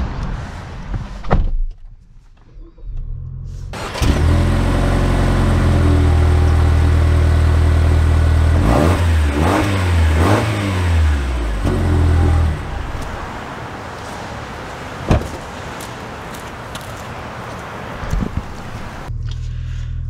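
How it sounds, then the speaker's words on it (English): A 2024 Toyota Grand Highlander starts up after a door thud, its engine rising and falling through revs as it pulls away, with a few clicks and knocks from the cabin and no speech. "let's see how the Grand Highlander drives."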